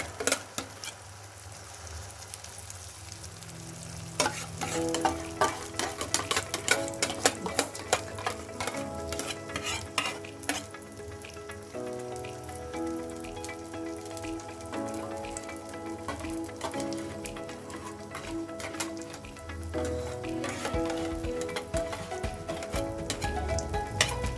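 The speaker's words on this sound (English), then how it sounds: "we're going to cook this for about 3 minutes before we turn it" A fluffy souffle omelette cooks in a pan, giving a soft steady sizzle broken by dense crackling pops and a few utensil clicks, close and moderately quiet with no voices.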